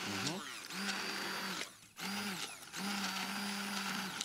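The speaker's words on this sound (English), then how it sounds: "So you're just getting this nice and smooth with your stick blender." A stick blender whirs in loud bursts as it blends food smooth in a kitchen, running about a second, pausing, then running again, with brief dips in the motor's pitch between pulses.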